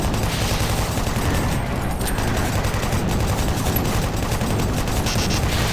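Rapid, continuous chain gun fire in the video game Doom 3, a dense loud stream of automatic shots with booming low end running through the whole stretch, no talk over it.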